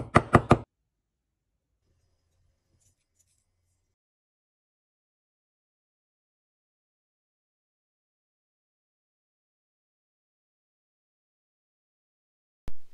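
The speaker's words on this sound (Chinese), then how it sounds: "再切些之前挖的野韭菜根当调料， 这个就是把它剁碎" Wild chive roots are chopped with a knife on a board: a quick burst of about four sharp chops right at the start, then long silence broken by a single thud at the very end.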